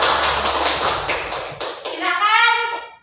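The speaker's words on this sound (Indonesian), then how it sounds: "Beri tepuk tangan untuk kelompok." Classroom clapping for a student group during a lesson, a brief burst of hand claps and taps that gives way to a voice speaking.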